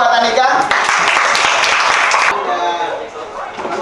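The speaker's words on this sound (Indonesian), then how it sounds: "Oke, tepuk tangan buat Andika." Listeners in a classroom clap for a presenter named Andika. A short burst of brisk, loud applause is heard close by, mixed with voices talking over it.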